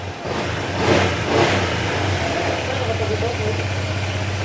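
A Honda ADV160 scooter engine, freshly overhauled, idles close by with a steady low putter, briefly revving twice near the start before settling back to an even idle.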